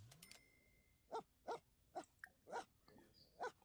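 A puppy gives a series of short whimpering yelps, five or six evenly spaced cries close to the microphone, after a brief squeak at the start, with no talking.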